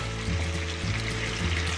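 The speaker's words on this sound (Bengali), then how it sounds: "মাছগুলোকে আমি জাস্ট হালকা করে দুটো সাইড একটু ভেজে নেব" Rohu fish pieces fry lightly in oil for a fish rezala, giving a steady, close sizzle and crackle with no voices.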